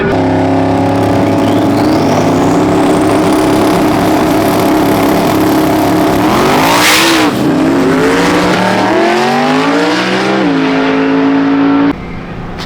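1300 WHP drag car pulling hard down the eighth mile, a loud, continuous engine roar climbing in pitch through gear changes with sharp dips and recoveries, ending abruptly as the throttle lifts.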